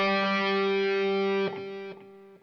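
Electric guitar with heavy distortion playing the pickup notes, a sustained, harmonically rich tone that shifts pitch twice and fades toward the end, played alone.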